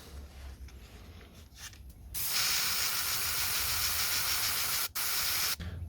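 An airbrush sprays black paint onto a lipless crankbait as a loud, steady hiss lasting several seconds, broken by two brief cutoffs near the end, with softer intermittent puffs before it.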